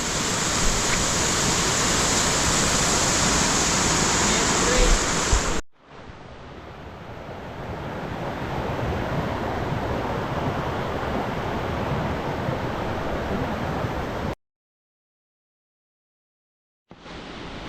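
Appancho waterfall near Kupawade village, deep in forest, pours out a steady, loud broadband roar of falling water. It drops abruptly to a softer, more distant rush, then cuts to silence before briefly resuming.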